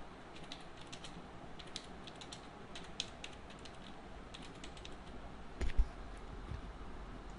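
Computer keyboard keys pressed during video editing: a soft, irregular run of light clicks and taps with one louder clatter near the end, quiet and close with no voices.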